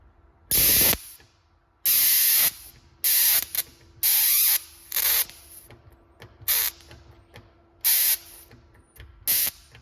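Twin Tesla coils fire high voltage capacitive discharges in loud, harsh buzzing bursts of varying length, each cutting off abruptly into near silence, with an irregular rhythm of about ten bursts.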